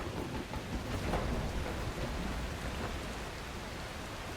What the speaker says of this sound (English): We're in a little bit of a storm.